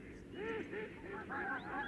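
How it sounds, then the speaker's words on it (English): Geese honk in a park, a faint run of nasal calls that rise and fall over a steady background murmur. "But the ducks and geese ate all their food and chased them away."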